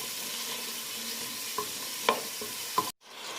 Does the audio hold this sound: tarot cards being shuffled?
no